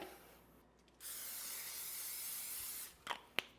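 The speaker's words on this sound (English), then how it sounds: "We're gonna prep it with a little non-stick cooking spray." Non-stick cooking spray hisses into an 8x8 casserole dish in a steady, close burst of about two seconds, followed by a couple of short clicks and bumps.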